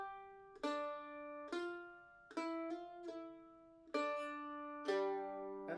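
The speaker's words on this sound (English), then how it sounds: "It's a real classic mandolin lick." A mandolin picks a bright, plucked shuffle lick in G of single notes and quick double strikes, each note ringing and decaying, played alone at moderate volume.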